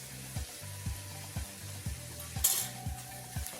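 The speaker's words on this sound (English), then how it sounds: "Now let's add the tomato." Tomato is tipped into a pan of frying ginger and garlic for masala upma, setting off a close, steady sizzle, with a spoon stirring in regular strokes about every half second.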